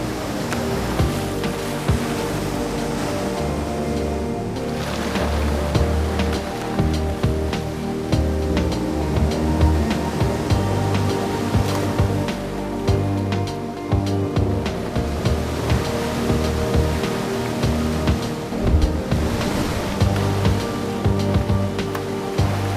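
Whitewater rapids on Cherry Creek in Yosemite, swollen with snowmelt: a dense, continuous roar of churning water, loud and steady throughout with no pauses and no voices.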